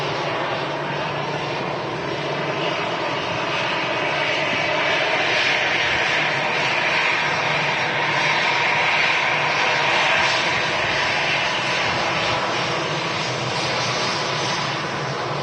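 A fixed-wing airliner lands at Manchester Airport, its engines giving a steady, broad roar that swells slightly midway and continues without a break, heard from a distance with no talk.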